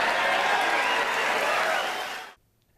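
A large crowd at a Donald Trump rally breaks into loud, dense applause and cheering that holds steady, then cuts off abruptly near the end.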